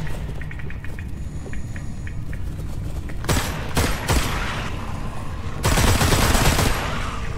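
Gunfire in the VR video game Metro Awakening, starting with a few light clicks and then loud bursts of close shots in two clusters, with rapid repeated cracks and no talking.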